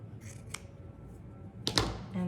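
Scissors snip through a single layer of T-shirt fabric during a sewing upcycle, giving a few crisp, close cuts that end in a louder final snip, with no talking.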